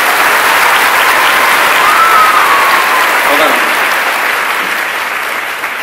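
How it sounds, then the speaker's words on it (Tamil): Full-hall applause at a chief guest address, dense and sustained at a steady, loud level for several seconds, with a faint voice briefly audible underneath. "ஒரு அரங்கம் நிறைந்த கைத்தட்டல் அந்த பொண்ணு கொடுங்க."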